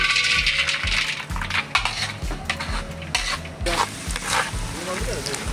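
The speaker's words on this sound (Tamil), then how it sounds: "நெய்யில் வந்து கஜுவை போட்டு வறுப்போம்." Cashews frying in ghee in a pan for carrot halwa, with repeated metal scraping and stirring clatter over a steady sizzle, close and fairly loud.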